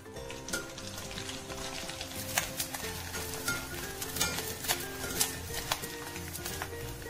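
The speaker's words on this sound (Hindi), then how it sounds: "थोड़े थोड़े गोंद डालें और इसे फ्राई करें।" Edible gum pieces fry in hot ghee, giving a continuous soft sizzle and crackle with irregular popping bursts throughout, close and fairly quiet.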